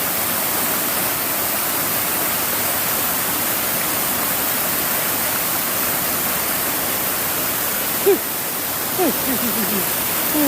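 Strong river current rushing steadily and close, a dense unbroken wash of water that fills the whole clip, with a few brief faint voice sounds near the end.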